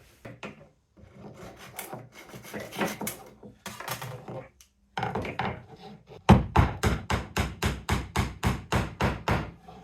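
Wood being trimmed with a hand tool while building a wooden sword and shield: irregular rasping strokes at first, then a steady run of quick, loud, even sawing or filing strokes close by, with no talk.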